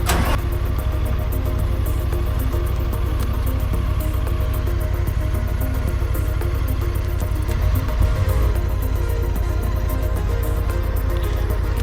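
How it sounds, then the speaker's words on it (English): A motorcycle engine starts and runs at a steady idle, a continuous low rumble that stays even and fairly loud throughout, with a slight shift near the end. "just starting it up, running the engine, checking everything out"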